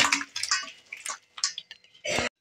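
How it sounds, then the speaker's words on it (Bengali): Cooked Bengali-style chicken kosha slops and splashes into a cooking pot in several wet, uneven bursts, ending in one louder sustained pour before falling silent. "এখানে আমি জলটা রাখবো না, আমি একেবারে ডেচকির মধ্যে ঢেলে নেব।"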